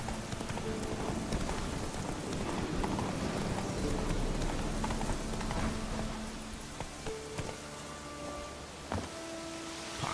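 Steady trotting hoofbeats of a horse in The Witcher 3: Wild Hunt, clip-clopping close by over a constant wash of background noise, with a few sharper knocks near the end.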